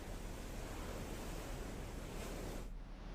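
Water roars through the ten opened gates of Chandil Dam, swollen by monsoon rain, as a dense, steady rush that fills the whole clip before easing slightly at the end.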